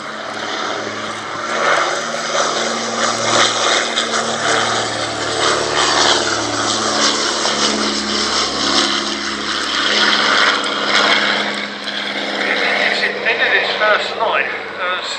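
A vintage propeller aircraft flies at the Shuttleworth Edwardian Pageant airshow, its engine drone loud and sustained with a wavering pitch as it passes, while a commentator talks over it throughout.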